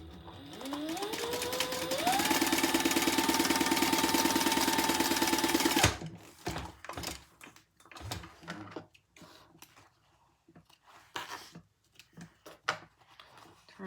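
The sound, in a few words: sewing machine stitching fabric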